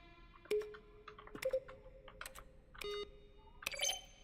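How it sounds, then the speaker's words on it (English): Video game button presses, each a keyboard keystroke blended with a synthesized tone, come as about four sharp clicks with short steady beeps, spaced irregularly and played quietly with no talk. "Each sound is a mix of keyboard stroke and a synthesized tone."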